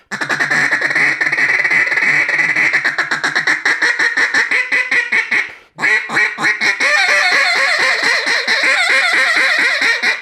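A hand-blown duck call mimics a hen mallard's high-pitched squeal in long, loud, close strings of rapid raspy quacks, with one brief pause midway before the rapid series resumes.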